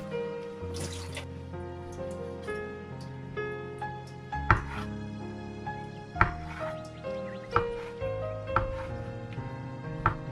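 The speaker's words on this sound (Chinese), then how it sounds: "先切成片儿，再切成条，最后改刀切成丁" A knife dices fried tofu on a cutting board: single chops land every second or so over soft background music, with no talking.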